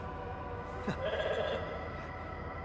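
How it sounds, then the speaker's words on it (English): A sheep in the video game The Alters lets out a single short bleat over a steady game soundtrack hum. "Pet the sheep."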